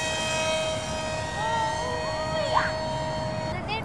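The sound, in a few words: RC F-35 model jet taking off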